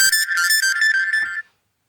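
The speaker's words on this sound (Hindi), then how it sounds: "फोन आ रहा था बार बार" A phone rings with a bright, steady electronic tone made of stacked harmonics, sounding in a few short pulses over about one and a half seconds and then stopping, clear and alone with no talk.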